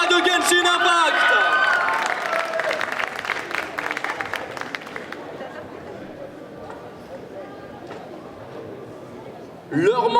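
Festival crowd at a cosplay contest applauds a Genshin Impact cosplayer: loud dense clapping and cheers at first, thinning and fading over several seconds to scattered claps and murmurs, before a voice cuts back in at the end.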